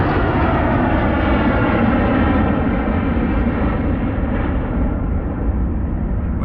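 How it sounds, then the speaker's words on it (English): An airplane roars overhead, a loud, broad, steady rushing drone whose higher tones slowly drop away as it passes, with no voices. "There are a lot of planes out here today"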